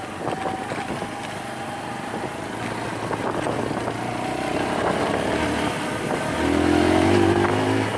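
A KSR TW 125 motorcycle engine runs steadily while riding, a continuous loud drone mixed with wind rush that rises slightly in pitch toward the end as the bike gains speed.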